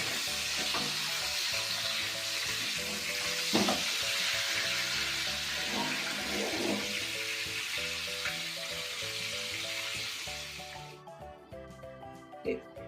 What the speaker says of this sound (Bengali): আবার 5 মিনিট এই সাইডটা এরকম রেখে দিচ্ছি, যাতে এদিকটা আবার ভাজা হয়ে যায়।